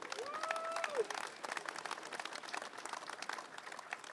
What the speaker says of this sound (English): That's worthy of a round of applause,